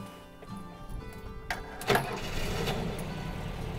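A VW camper van engine cranks and catches at close range, its starter whirr giving way to a low, steady running rumble that holds after the brief burst.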